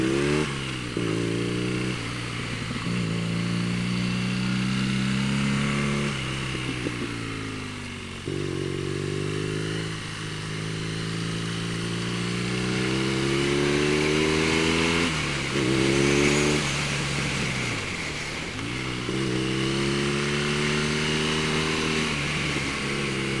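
A boxer-engine motorcycle drones continuously with rising and falling pitch as it accelerates and shifts gears while riding, wind rushing throughout. No talking.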